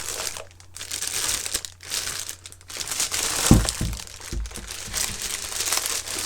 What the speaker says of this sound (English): Get all this plastic off.